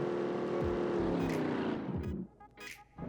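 A car in a mobile open-world racing game drones with a steady engine hum and revving, then drops away into quieter sputters and short bursts near the end.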